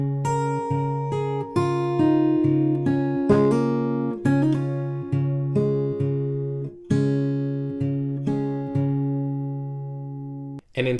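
A fingerpicked guitar plays a song's line alone, clear plucked notes over a repeating bass pattern in an even, gentle rhythm, close and moderately loud.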